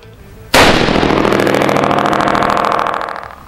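A single loud .308 rifle shot through a Surefire muzzle brake, a sharp crack close by followed by a long, rattling echo that slowly fades.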